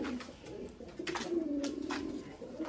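Soft, low cooing of Jacobin and other pigeons repeats through the clip, a few birds close by, with faint rustling and background chatter.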